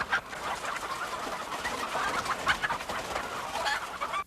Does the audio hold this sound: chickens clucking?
yes